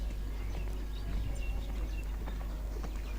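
Horse hooves thudding on the footing of a show jumping arena at an outdoor horse show, a steady clip-clop gait over a constant low background rumble, moderately distant, with no talk.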